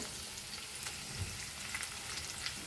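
Green chillies and curry leaves fry in hot oil, giving a steady, close crackling sizzle with small pops scattered throughout and no voices.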